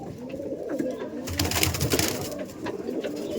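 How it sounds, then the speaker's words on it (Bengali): Rampuri cross pigeons cooing close by, soft repeated throaty coos with a burst of fluttering and shuffling in the middle. "দেখুন আর এটা হচ্ছে মাদি পায়রা"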